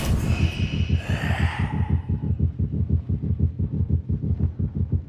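Steady rhythmic heartbeat thumps from a video game, a pounding double-beat pulse repeating evenly, with a brief breathy sigh-like sound layered over the start.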